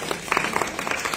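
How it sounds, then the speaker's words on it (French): An audience at a French-speaking gathering gives a short burst of clapping applause, close and fairly dense, with some voices mixed in. "on peut l'applaudir"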